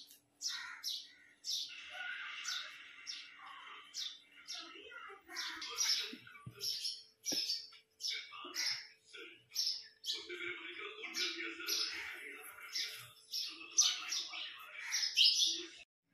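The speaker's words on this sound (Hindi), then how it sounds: "देखिए चिड़िया आ गए" Sparrows chirp on a rooftop in a busy, continuous stream of quick, close tweets and squeaky calls with only short gaps, and no other sounds around them.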